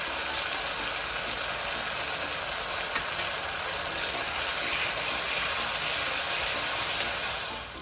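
Soaked chana dal hits hot tempering with asafoetida and sizzles for raw mango rice, a steady close hiss that swells slightly before fading at the end.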